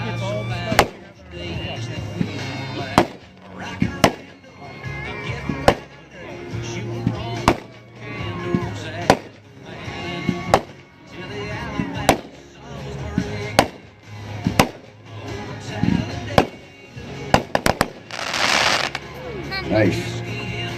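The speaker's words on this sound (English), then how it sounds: "Pyro Demon, Aces High. These are nice breaks for a 25-shot, 200-gram cake." A Pyro Demon Aces High 25-shot, 200-gram consumer firework cake fires sharp launches and bursting breaks at a steady rhythm over twenty seconds, loud with crackling between booms and a crowd murmuring in the background.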